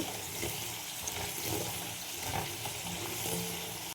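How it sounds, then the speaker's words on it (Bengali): Potato pieces frying in hot oil until crisp give a steady, dense sizzle with faint clinks of stirring, heard alone and fairly close for a few seconds. "এইভাবে আমি আলুগুলোকে আমি ভেজে নেব দেখো আলুগুলো কীরকম ক্রিস্পি হয়ে গেছে"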